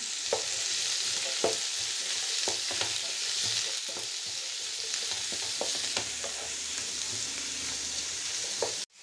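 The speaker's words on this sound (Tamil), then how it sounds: "இப்போ இதை நல்லா வதக்கிக்கலாம்" Onions sauté in a pan for a crab gravy with a loud, continuous frying sizzle, broken by frequent soft clicks of a spoon stirring, close up and without speech until it cuts off at the end.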